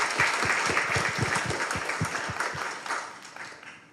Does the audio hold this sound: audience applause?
yes